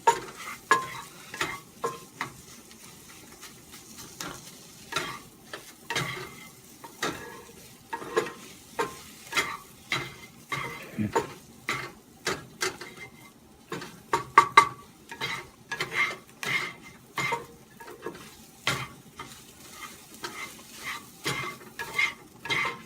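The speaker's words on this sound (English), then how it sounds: "Then you go back to stirring." Food with small cheese pieces is stirred steadily in a pan, repeated rhythmic scraping strokes of the utensil against metal over a faint sizzle, close and fairly loud, going on throughout.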